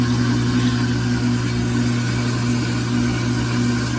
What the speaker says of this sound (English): You can also see how the internal basket moves without any loads of clothes in there.